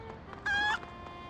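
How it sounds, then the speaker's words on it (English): A short, bright cluck from a chicken in the Ed, Edd n Eddy: The Mis-Edventures video game, one brief call rising over quiet background ambience. "Chicken."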